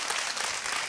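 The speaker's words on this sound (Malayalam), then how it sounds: "എല്ലാവരും നല്ലൊരു കൈയടി കൊടുക്കൂ." Audience applause after a children's song on a singing reality show, a dense, steady wash of many hands clapping together, loud and close throughout.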